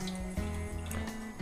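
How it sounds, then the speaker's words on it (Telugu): Water is poured from a cup into a pan on a stove while butter murukku is being prepared. It makes a brief, steady splashing pour close by, with a low hum underneath and no talking. "ఇప్పుడు దీంట్లో 1 కప్ వాటర్ పోసుకుందాము."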